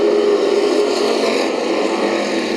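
Race cars accelerating together at the green flag in a heat race at Bakersfield Speedway, a loud, dense roar of engines sustained throughout.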